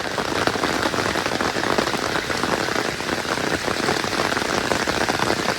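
Heavy rain and hail pound steadily on a big golfing umbrella during a thunderstorm in central Norwich, forming a dense, unbroken close-up hiss and patter with no pauses.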